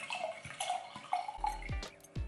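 Wine poured from a bottle into a glass, producing soft, uneven glugging and splashing in a few short bursts, fairly quiet and close, with no voices.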